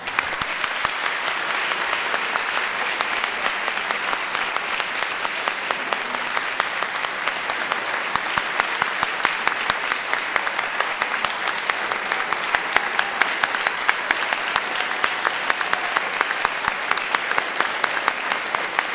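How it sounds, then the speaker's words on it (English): A large audience at the Heights High Alumni Hall of Fame ceremony gives a long, unbroken round of applause for the inductees, the thick clapping holding at a steady level throughout. "please join me in a final round of applause as we honor each and every one"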